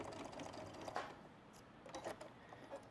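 A sewing machine back-stitching upholstery for a modern-style welded metal chair, its needle running in a steady, rapid mechanical chatter, close but fairly quiet, with a few brief clicks.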